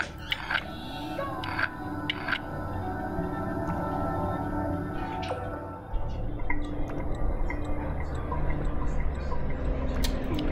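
Water drips in the video game Machinarium, with sharp, scattered drops and trickles over a low mechanical hum and ambient game music.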